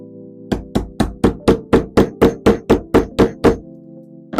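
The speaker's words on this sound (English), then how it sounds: "just some light taps on the back should be enough" A mallet taps the back of a half round pearl rivet stud in a hand tool setter, about twelve evenly spaced sharp knocks in a steady rhythm, close and clear, with no talk.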